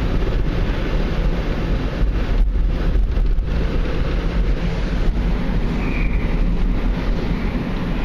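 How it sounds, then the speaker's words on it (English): A strong north wind blows hard around a vehicle driving on a cold winter road at about 26 degrees, a loud continuous roar and rumble with steady wind buffeting that never lets up. "right now it's like 26 degrees and the wind is blowing out of the north pretty hard"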